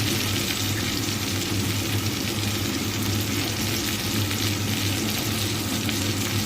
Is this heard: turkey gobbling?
no